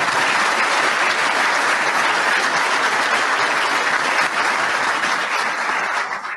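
A conference audience at Oak Ridge National Laboratory gives dense, sustained applause welcoming NVIDIA's Jensen Huang, a loud, even roar of clapping that runs the whole length and fades slightly at the end.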